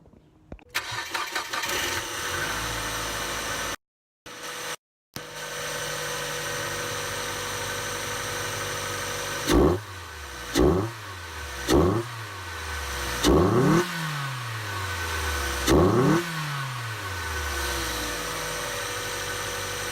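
A car engine cranks and catches, idles with a steady rumble, then is revved hard several times in sharp bursts that rise and fall, loud and close.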